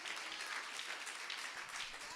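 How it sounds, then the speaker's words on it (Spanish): A church congregation claps in praise during a worship service, a dense continuous wave of applause from many hands, moderately distant and steady throughout. "le damos palmas de alabanza a nuestro Dios, hermanos"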